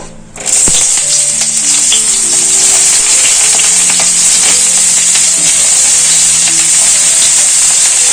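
Ridge gourd slices drop into hot mustard oil with dried chilli in a wok, setting off a loud, steady, bright sizzle that holds for several seconds after a sharp initial splash.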